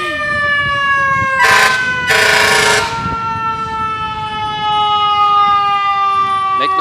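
Fire engine sirens wailing at a Memorial Day parade in Royal Oak, Michigan, loud sustained tones joined by two bursts of blaring air horn, with crowd murmur beneath.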